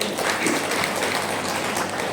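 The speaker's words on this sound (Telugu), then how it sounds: "చప్పట్లు గట్టిగా" An audience at a gathering in an ashram applauds loudly, a dense, steady wash of many hands clapping close by throughout.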